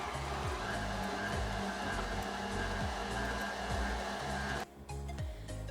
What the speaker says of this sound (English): You're gonna mix this together for about 7 minutes or so until it's really light and fluffy.